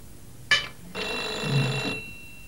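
A landline telephone rings in a quiet home at mealtime, one short burst followed by a longer sustained bell-like ring, loud and close with no talk over it.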